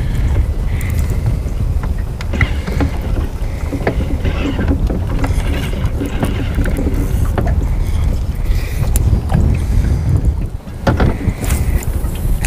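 Gusty wind buffets the microphone on a fishing boat, a loud, rough low rumble that surges and eases throughout, with faint knocks and water sounds beneath.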